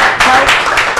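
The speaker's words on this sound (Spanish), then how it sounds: "Un fuerte aplauso para ellos." An audience claps loudly for children at a Spanish-language television show, in quick uneven bursts of applause that last about a second.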